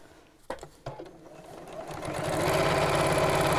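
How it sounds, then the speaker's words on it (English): A few sharp clicks from handling, then a sewing machine starts and runs at a fast, steady, even hum as it stitches straight across the edges of a bamboo-handled bag, near and loud, with no talk. "And then sew straight across."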